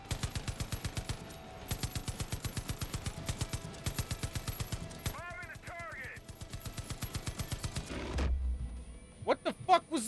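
Loud automatic gunfire from the first-person shooter Far Cry 5, rapid rhythmic bursts that repeat with brief breaks, ending in a few scattered single shots. Game music and effects play underneath.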